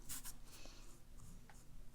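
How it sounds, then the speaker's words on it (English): A paintbrush strokes sunflower petals onto paper for a handmade Mother's Day card, making soft, close, brushing swishes in a few quick bursts against a quiet room. "Kind of using the brush to make the petals."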